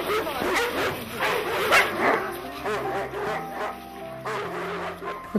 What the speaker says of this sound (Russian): питомник среднеазиатской овчарки – Сирин, обитатели которого встречают нас приветственными лаями